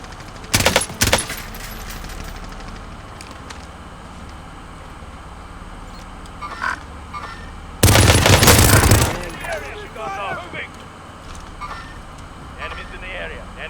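Automatic gunfire bursts in the Call of Duty Warzone video game, an M4 rifle set up like an M16, with a short burst early and a longer loud one near the middle over steady game ambience and radio-style voice callouts.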